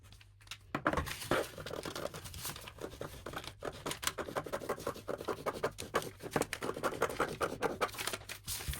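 Scissors cutting along a paper dress pattern for a sweetheart neckline, a series of close, crisp snips and paper rustles repeating in an uneven rhythm.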